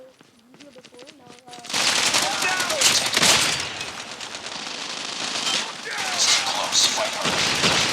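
Rapid bursts of assault rifle fire in a video game, loud and continuous from early on, with short voiced callouts and talk over the shooting.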